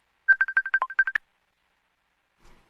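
A telephone on a radio show gives a quick burst of about a dozen short electronic tones, clear and close, followed by near silence and a faint click.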